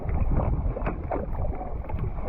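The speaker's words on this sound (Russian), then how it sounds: "Ветер встречный." Strong headwind buffets the microphone during a paddling marathon in a continuous low roar, gusting unevenly throughout with no voices.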